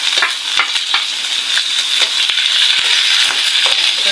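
Garlic, ginger and onion sauté in a hot pan as a steady, loud sizzle, with scattered clicks and scrapes of stirring and no voices.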